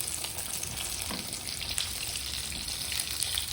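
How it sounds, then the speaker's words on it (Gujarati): Tomato bhajiya, tomato slices topped with a spice mix, frying in hot oil, a dense continuous sizzle and bubbling close up, with faint stirring. "તેને પણ આવી જ રીતે ઉપરથી આ ભૂકો ઉમેરી આપણે તેને તેલમાં ધીમેથી મૂકી દઈશું"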